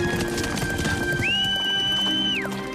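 A horse gives a drawn-out whinny in a dramatic horseback chase scene from a historical drama, heard over a dense, busy background of hooves and action noise.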